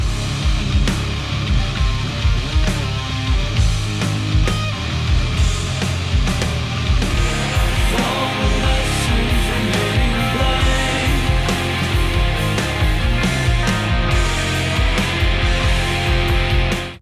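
Dense, loud full-band music processed through vintage-style tube equalizers, compression, tape machines and consoles, with a driving low end and a steady beat that plays on without any voices.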